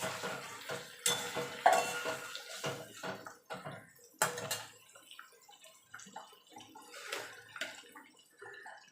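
Two medium tomatoes drop into a pan of frying ginger and green chilli for a vegetarian khichuri, bringing a few sharp clatters and stirring scrapes over a soft sizzle, close and fairly quiet.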